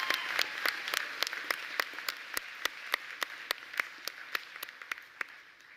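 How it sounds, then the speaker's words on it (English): Graduation-ceremony crowd applauds academic excellence recipients at a 71st commencement in Leesburg: a steady wash of clapping with sharp individual claps standing out at a regular pace, held at an even, moderate level throughout. "round of applause to congratulate all academic excellence recipients again"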